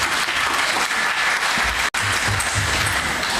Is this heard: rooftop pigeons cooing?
no